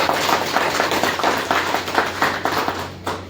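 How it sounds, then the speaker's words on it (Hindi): A gathered audience gives a hearty round of applause for a speaker, a dense, steady wash of many hands clapping close by that fades slightly near the end. "शशि जी के लिए एक जोरदार ताली होना चाहिए।"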